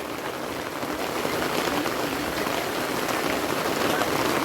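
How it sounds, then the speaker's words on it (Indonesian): Heavy rain pours outdoors near a house where vendors are gathered, a dense, constant hiss of drops striking surfaces that holds steady and grows slightly stronger partway through. "sekarang mulai hujan ya lumayan cukup deras sekali"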